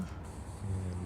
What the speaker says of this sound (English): Just weld this up as much as I can